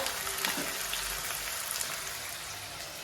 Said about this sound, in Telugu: ఆయిల్ హీట్ అయింది కదా మనం కట్ చేసుకుని ఆనియన్ చేసుకున్నాము ఇవి ఫ్రై అవ్వాలి బాగా